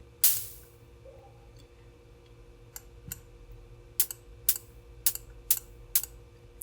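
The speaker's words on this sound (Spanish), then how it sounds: "podemos hacer una especie de sonido medio de platillo, con un ruido más bien agudo" Short bursts of bright, hissy noise from a noise generator in VCV Rack, set with no sustain and a short decay like a synthesized cymbal hit, snapping on and decaying quickly, repeated about eight times, the later ones in an even rhythm.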